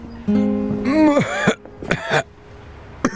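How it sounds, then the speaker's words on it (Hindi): A man coughs and clears his throat in a few harsh bursts, close and loud, with short pauses between them. "जब भी मैं पूछती हूँ तुम खांसना शुरू कर देते हो।"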